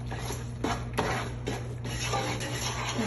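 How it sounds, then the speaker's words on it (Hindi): A spoon stirs gond pak mixture in a pan, giving soft, repeated rubbing and scraping strokes with a few sharper clinks. The strokes sit over a low, steady stove hum and come at an uneven rhythm. "अब इसको सबको थोड़ी देर अपन मिक्स करके"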